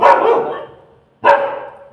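Two loud, close dog barks, the second following after a short pause, with no other sounds around them.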